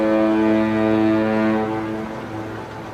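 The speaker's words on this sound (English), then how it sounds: "The foghorns on the Golden Gate Bridge can be heard across much of San Francisco" Deep foghorns of the Golden Gate Bridge in San Francisco sound a loud, sustained harmonic blast that holds steady and then slowly fades, with no voices present.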